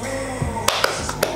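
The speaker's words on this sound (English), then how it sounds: "I'm clapping my hands right now." Hands clap four quick, sharp times in close succession over a steady background sound, with no speech.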